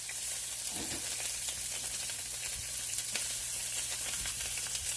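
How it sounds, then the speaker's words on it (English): Steady, dense sizzling of layered cabbage frying in a hot pan, with scattered crackles and pops, continuous and fairly close throughout. "You're going to hear them snap, crackle, pop, and sizzle."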